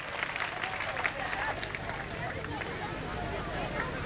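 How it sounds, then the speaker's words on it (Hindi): An audience at a school annual function applauds a stage act, dense and continuous clapping from a large crowd with voices murmuring throughout. "एक बार जोरदार तालियों के साथ इस एक्ट का हम स्वागत करें।"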